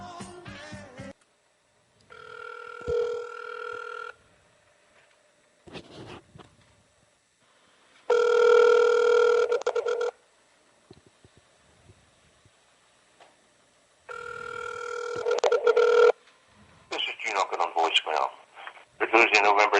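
An outgoing phone call to a government office rings back through the handset: three separate ring tones a few seconds apart, with quiet gaps and brief clicks between them, and a burst of sound at the end.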